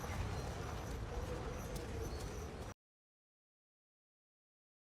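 Horse hooves clip-clop in a dramatic Game of Thrones scene as a rider arrives beyond the Wall. A dense, steady clatter of hoofbeats mixes with other scene sound, then cuts off abruptly to silence.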